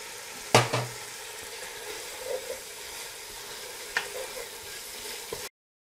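Goulash fries in a Dutch oven with a soft steady sizzle, broken by a few sharp scraping knocks of stirring, then cuts to silence at the end.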